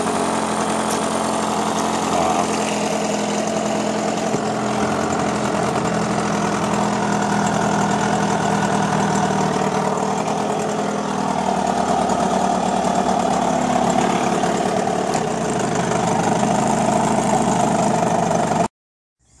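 A car engine idles steadily with a loud, continuous mechanical drone, its pitch rising and falling slightly as it revs, running alone without talk until it cuts off near the end.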